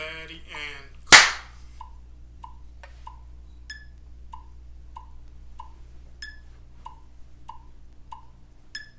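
A single sharp hand clap, loud and close, marks the start of a home recording for a virtual winter concert. A short voice comes before it, and faint, evenly spaced metronome beeps tick on afterward.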